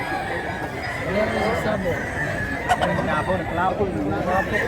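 Bullstag roosters crowing repeatedly with scattered clucks, close and loud, over a continuous background of other fowl and a voice talking.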